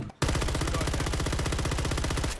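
Rapid, evenly spaced full-auto shots from a RAM-9 SMG in Call of Duty: Modern Warfare crack out in one loud, unbroken burst lasting about two seconds, with no voices over them.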